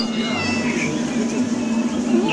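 A cat meows close by on a street in an old Chinese town, with a drawn-out, wavering call that stands out over a busy background.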